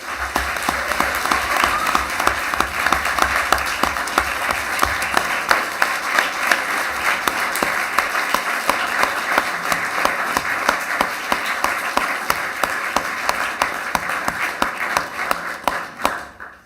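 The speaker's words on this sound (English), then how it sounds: "Give a round of applause." Sustained crowd applause fills a city council meeting hall after a proclamation for the City of Westfield, dense steady clapping from many hands lasting the full stretch before tapering off at the end.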